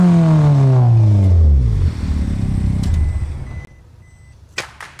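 Perodua Kelisa fitted with a YRV turbo engine revs up close and loud, then falls away in a sweeping exhaust drone that drops to a low idle, with a few sharp clicks near the end.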